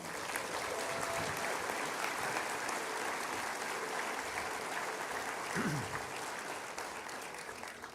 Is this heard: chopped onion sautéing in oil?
no